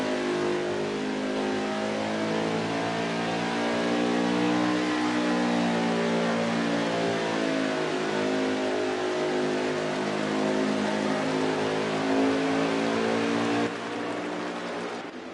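Several NASCAR trucks race around the Eldora dirt track in a racing game, a dense, steady roar of revving engines rising and falling together, loud and continuous with no talk.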